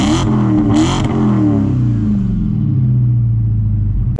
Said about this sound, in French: un moteur vraiment impressionnant, dont le son est incroyable